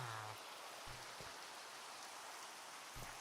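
Steady rain hisses in the blocky survival game Minecraft, a soft, even wash of falling drops with a few faint low thumps beneath.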